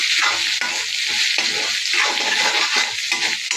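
Food is stirred in a pan on a high flame to keep it from burning, making a loud sizzle with rhythmic scraping strokes of a spoon, close up.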